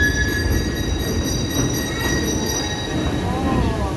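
A train on the St. Nicholas Abbey heritage railway in Barbados rolls to a stop with a steady rumble, thin sustained wheel squeals and a faint clicking of the cars, all loud and close.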